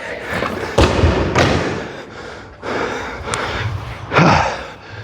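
A 130 kg barbell dropped to the floor after a floor-to-overhead lift lands as one loud, heavy thud near the start, with hard breathing and gasps around it and a few later thumps.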